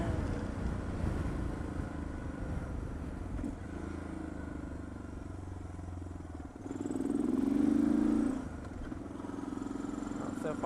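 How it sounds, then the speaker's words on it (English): A Suzuki DR650SE motorcycle with an FCR-MX carburetor revs at wide open throttle, its engine rumbling near and rising into a loud, strained surge that then eases back, with someone talking over it. "I just punched it in the wide open throttle and it takes off."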